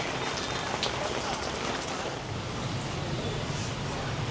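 Steady evening rain patters densely on a surface nearby in Hanoi, Vietnam, a continuous crackling hiss with faint wind underneath and no break.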